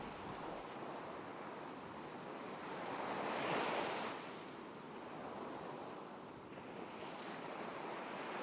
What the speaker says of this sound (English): listen to the sound of the ocean